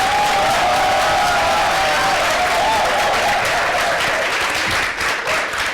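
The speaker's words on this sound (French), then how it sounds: "Je ne vous ai pas entendu applaudir plus fort." Sustained applause from a large live audience at a Friday aperitif talk show, loud and steady throughout with crowd noise and a faint whistle-like tone early on, fading slightly at the end.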